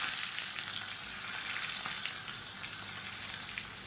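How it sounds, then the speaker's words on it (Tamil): Shallots and garlic frying in oil for sambar: a soft, steady crackling sizzle throughout, heard close but fairly quiet, with no voices. "இந்த வெங்காயம் பூண்டு நல்லா செவந்து வரணும்."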